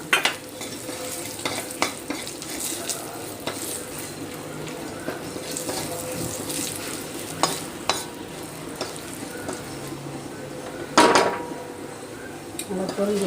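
Dried red chillies and asafoetida splutter in hot oil for a tempering, a steady crackling sizzle with scattered pops, occasional clinks of a pan and a short rush of water, heard close up.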